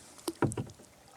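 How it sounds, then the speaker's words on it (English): A tandem canoe is paddled on Horseshoe Lake in the Adirondack Mountains, with a couple of close, soft paddle strokes and water splashes in quick succession, then quiet. "First paddle of the season in Horseshoe."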